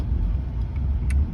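A 1979 Toyota Cressida engine idles nearby after being shifted into gear, a steady low rumble that holds evenly throughout with no voices.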